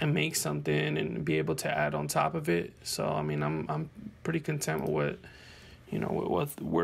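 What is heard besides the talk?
No everyday noises stand out.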